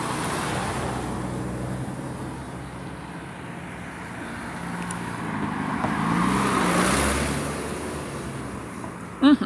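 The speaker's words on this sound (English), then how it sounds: "It's just car after car after car coming" Cars pass one after another on a road at night, a continuous broad traffic rush that swells and fades as vehicles go by, with a brief sharp knock at the very end.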